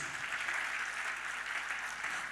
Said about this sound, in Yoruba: Ẹ jẹ́ ká pàtẹ́wọ́ ńlá sí Jésù.